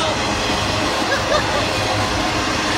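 Freight train cars of bare flatcar tables thundering by nearby, dense rail roar with faint wheel squeals and clatter, steady throughout.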